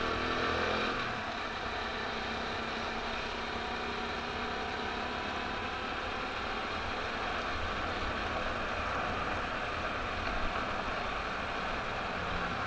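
A red motorcycle ridden through city streets, a steady engine drone with broadband wind rush and road noise, constant and close with no clear revving changes.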